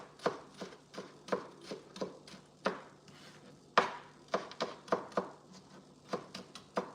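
A knife chops green and white onions on a kitchen board in steady, uneven strokes, about two dozen close, crisp thuds with short pauses between bursts.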